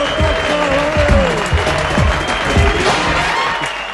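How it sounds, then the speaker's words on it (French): A studio audience applauds loudly on a French television show, sustained dense clapping with some cheering and a voice speaking over it throughout. "on l'applaudit très fort"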